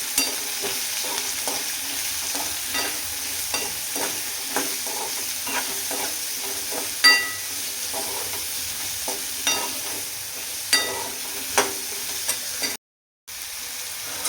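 Bottle gourd sautés in oil with turmeric and salt, giving a loud, steady sizzle broken by regular spatula scrapes and stirs. The sound cuts out for a moment near the end.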